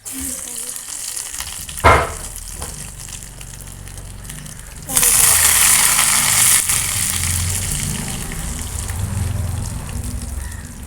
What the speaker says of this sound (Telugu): నూనె కానీ పోపు గింజలు వేసుకుంటాం